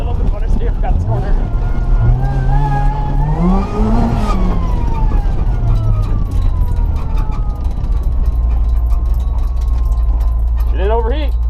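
A loud rallycross car engine revs hard at a rallycross event, pitch climbing and falling through gear changes, close and roaring throughout, with a voice briefly heard.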